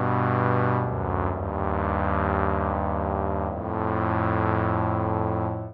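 Slow fourths bass preset from the Steinberg Neon VST synth, a free 1996 plugin: a loud, sustained, harmonically rich synth tone holding steady chords, shifting pitch twice, alone without voices.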